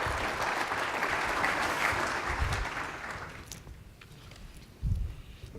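An audience applauds to welcome a speaker at a talk on innovation, sustainability and talent: dense clapping for about three seconds, then fading to scattered claps and a faint room hush.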